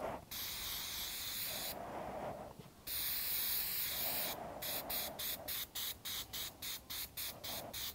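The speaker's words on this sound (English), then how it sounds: "this sprays out not as fine as the Plasti Dip" Flex Seal rubber coating sprayed from an aerosol can onto case foam: long steady hissing blasts with a pause, then a run of short rhythmic spray bursts, close and loud.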